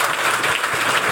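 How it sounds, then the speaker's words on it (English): An audience at a mayoral debate event applauds in a steady, dense burst of clapping heard close, with no talking over it. "So let's have a round of applause for Ram's Head."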